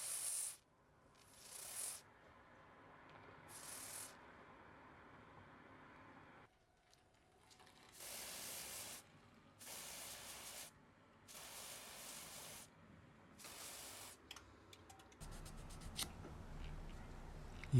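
Contact cleaner sprayed in repeated short hissing bursts onto a corroded electrical connector on a Ducati Monster 821 motorcycle, each blast lasting about a second, with pauses between and some handling noise near the end.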